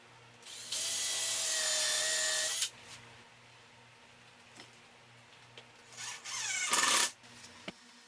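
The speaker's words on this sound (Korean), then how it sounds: "체결될 부분에 목공용 접착제를 바르고 나사를 체결합니다." A power driver sets screws into glued wooden wardrobe parts, two loud whirring bursts up close, the first held for about two seconds and the second shorter, with quiet knocks and handling between them.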